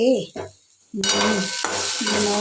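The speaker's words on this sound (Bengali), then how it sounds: "মূলো শাক ভাজছি।" Radish greens frying and being stirred in a pan at home: a brief scrape, then a steady close sizzle with stirring, after a short voice-like sound at the start.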